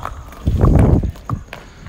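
Hooves of a female foal about seven and a half to eight months old clop on the ground, a few dull close thuds with a heavier step in the middle, heard without talk.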